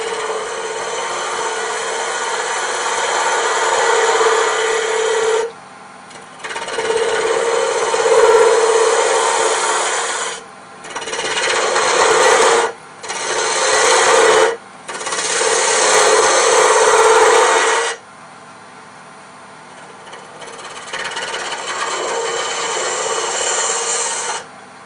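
A lathe tool cuts into wood while a mushroom box is being turned, a loud scraping hiss in several bursts of a few seconds each, broken by short pauses, with a quieter motor hum between the cuts.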